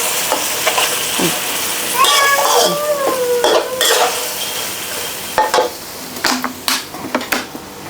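Garlic and shallots stir-fried over low heat in a pan, soft sizzling under repeated spatula scrapes and clinks against the pan, growing choppier toward the end; a faint voice-like sound now and then.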